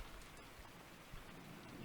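Steady rain falling over a garden outside a house, an even, continuous patter with no voices, holding at a moderate, unbroken level throughout.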